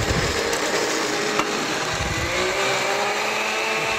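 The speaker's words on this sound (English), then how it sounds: "We blended that up." Blender whirring at high speed as it mixes ice with Merlot, tequila and lime, a steady loud grinding drone that holds throughout without pause.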